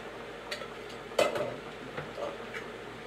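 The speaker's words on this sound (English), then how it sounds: "we're gonna go ahead and toss them in there" Drained chickpeas and kidney beans are tossed into a vegan jambalaya pot, giving one soft clattering splash with a few lighter clinks and stirring scrapes afterward, close by and fairly quiet.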